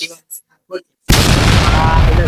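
A small firecracker set off against a wall during a village Diwali celebration bursts with a sudden loud bang and a long, rough, roaring tail, after a few brief spoken sounds nearby.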